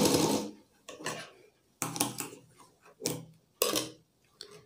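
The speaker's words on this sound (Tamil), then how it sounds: "இந்த மாதிரி தையல் போட்டதுக்கப்புறமா நம்ம இதுக்கு மேலே வந்து ஒரு படிமான தையல் போட்டுக்கலாம்." Cloth is stitched on a sewing machine in several short, separate bursts of quiet mechanical whirring with gaps between them.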